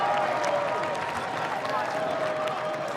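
At an MLR rugby match between California Legion and New England Free Jacks, the home crowd applauds and cheers a try, a steady wash of clapping and crowd noise with loud talk over it.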